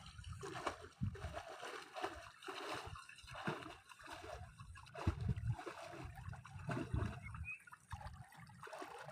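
Water at a beach resort splashes repeatedly as someone dives in, producing rough bursts of splashing and churning with trickling in between, while voices talk faintly in the background.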